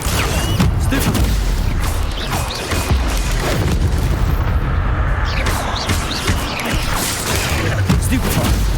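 The Stupefy spell is cast in the Hogwarts Legacy video game amid a dense, loud wash of combat effects, with rumbling booms and whooshing bursts filling the whole stretch.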